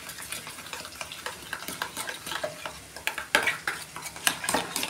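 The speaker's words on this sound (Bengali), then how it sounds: "এই দইটা আমি ভালো করে মশলার সঙ্গে মিশিয়ে নেব" Yogurt being mixed into spices with okra in a pan, a quiet sizzle under a dense, rhythmic run of spoon strokes scraping and tapping against the pan, close by.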